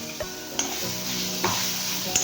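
Ground amla powder fries in a hot oil tempering with asafoetida, sizzling steadily while a spoon scrapes and stirs the pan in about four distinct strokes, close and clear with no talking.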